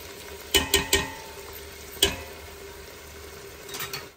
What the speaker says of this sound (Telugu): చూసారా మన చికెన్ ఎంత బాగా అవుతుందో